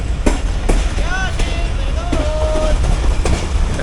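A train on the main line near Karachi rolls along with loud, continuous rumbling and rattling, periodic rhythmic clacks and squealing wheel tones, heard close from aboard with some talk mixed in.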